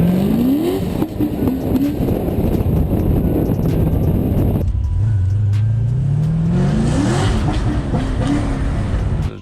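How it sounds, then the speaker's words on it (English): A Corvette C6 accelerates hard on a drive, its engine note climbing through rising revs, briefly dropping at a gear change, then climbing again, loud and close from inside the car. "Taking the car out for a little joyride."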